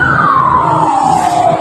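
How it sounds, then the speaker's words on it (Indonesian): An ambulance siren wails loud and steady as the vehicle passes close by, its pitch sliding gradually downward over road noise. "itu yang lewat kan ambulans."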